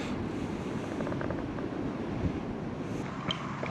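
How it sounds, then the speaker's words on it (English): Steady wind blowing outdoors at a cold campsite, a continuous broad rushing roar buffeting the microphone, with a few faint clinks near the end. "Wind came up."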